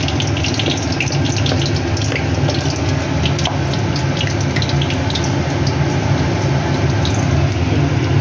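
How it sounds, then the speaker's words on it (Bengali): Nigella seeds, added after dried red chillies, temper in hot oil for a fish curry, giving a loud, continuous close sizzle with scattered small crackles and pops throughout. "কালো জিরে ফোড়ন দিচ্ছি"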